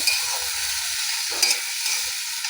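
Cumin and coriander paste frying in a pan as water is added, giving a steady bright sizzle with a brief surge of hiss midway and faint stirring scrapes underneath, close up with no talk.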